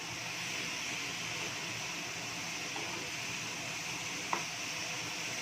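Tomato gravy with turmeric and cumin sizzling in a pan, a steady, even frying hiss running throughout at moderate level, with one brief clink near the end.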